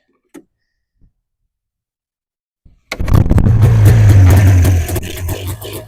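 A Polaris Indy snowmobile getting a tune-up and pull-started: a few faint clicks and tugs on the starter rope, then the two-stroke engine catches on the first pull and runs loudly, buzzing steadily before it drops off.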